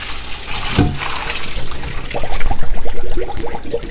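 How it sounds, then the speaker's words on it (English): Water from a pot of cooked spaghetti pours steadily into a sink, first a broad gush and then a splashing, gurgling stream, alone and close. "So now I'm going to drain the water."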